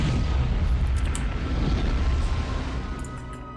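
Broad, loud rumbling roar of a rocket engine igniting after interstage separation in Kerbal Space Program, steady and dense throughout and easing slightly toward the end, with no voices.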